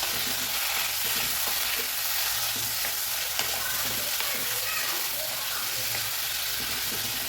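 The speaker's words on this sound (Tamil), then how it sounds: "கோவக்காய் போடுறேங்க போட்டு நல்லா வதக்கலாம் கோவக்காயை இந்த ஆயிலே" Ivy gourd (kovakkai) pieces sautéing in hot oil, a constant soft sizzle with occasional stirring scrapes, fairly quiet and close, with no talking over it.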